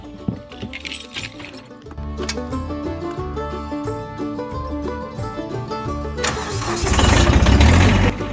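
A tractor engine cranks and catches, then settles into a steady running rumble, building to a louder, rougher roar near the end; music plays over it throughout.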